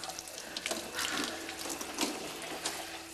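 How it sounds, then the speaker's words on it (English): Water from a shower runs steadily and softly, with a faint splashing hiss that stays constant throughout and no voices. "I'm just gonna go take a shower"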